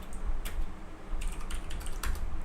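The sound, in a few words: students typing on computer keyboards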